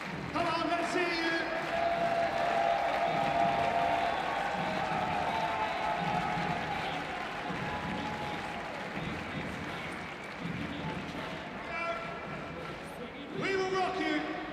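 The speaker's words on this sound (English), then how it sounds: "So let's hear you folks make some noise for these riders. Let's clap in time." Spectators at a riding event grand final applaud and cheer for the riders, a long, steady wash of clapping and crowd noise at a distance, with a voice and music-like tones mixed in.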